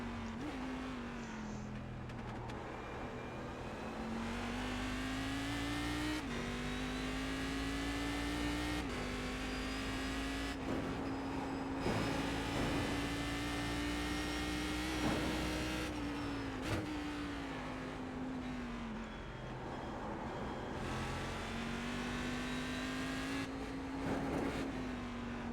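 A Cadillac CTS-V race car in iRacing's Global Challenge at the Nurburgring drones steadily at high revs, its engine pitch rising and dipping through gear shifts across the lap, loud and continuous with no talk.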